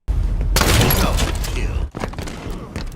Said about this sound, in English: M45 shotgun, Halo 5